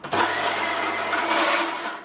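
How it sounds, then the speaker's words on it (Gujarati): A kitchen mixer grinder crushes chillies and ginger. Its motor kicks in abruptly and whirs loud and steady for about two seconds. "આપણે મિક્સર કરી લઈશું"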